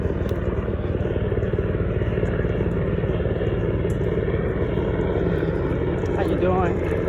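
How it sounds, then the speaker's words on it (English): A helicopter passes overhead during an outdoor morning walk, its loud, steady rotor drone filling the whole stretch without letup. "Got a helicopter flying over."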